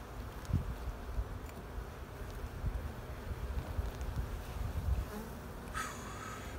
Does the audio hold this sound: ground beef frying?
no